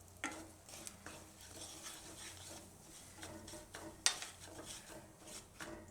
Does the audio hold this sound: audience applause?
no